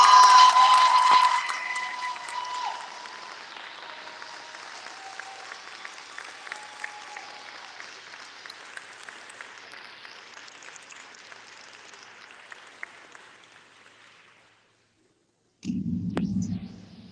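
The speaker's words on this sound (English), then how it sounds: "give Principal Poston a round of applause" A graduation audience at an 8th grade commencement applauding Principal Poston, loud dense clapping that begins strong and then thins into a long sustained patter before fading out, followed by a short low hum at the end.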